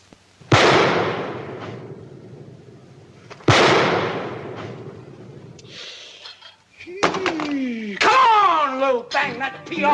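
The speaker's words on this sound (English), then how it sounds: "Now lift up that pistol and shoot" Two sharp, loud pistol shots go off a few seconds apart, each with a ringing decay, followed by shrieking voices and a sudden stir of sound.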